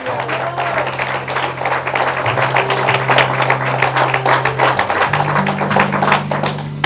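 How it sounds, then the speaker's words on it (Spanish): Church congregation applauding throughout, a steady dense wash of clapping over sustained organ or keyboard chords that shift pitch partway through. "¿Por qué no le da un aplauso al Señor?"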